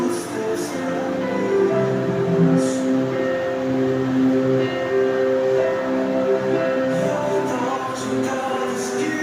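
A train passes on a railway with a steady rolling rumble and tonal hum, brief bright clanks or hisses at intervals, fairly loud and without talk.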